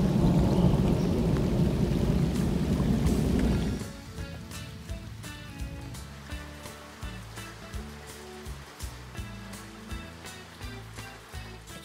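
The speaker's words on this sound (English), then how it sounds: "It's been raining hard like this for over 2 hours now." Heavy rain pours loudly as a dense, steady roar for a few seconds, then eases into softer scattered drips and patters with no talk.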